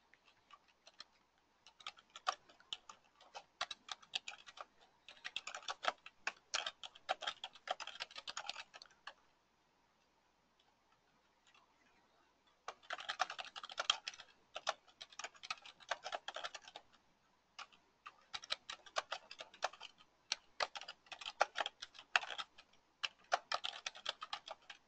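A computer keyboard clatters with quick bursts of typing, light rapid clicks in several runs separated by short pauses, close and fairly quiet.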